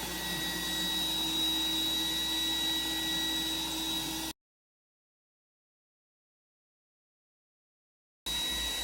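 An iRobot Roomba 985 robot vacuum cleans pet hair from carpet with a steady whirring drone. The drone cuts out to several seconds of silence, then resumes.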